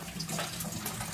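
Tap water runs steadily into a sink while a Popit toy is washed, a continuous close splashing stream with no talk over it.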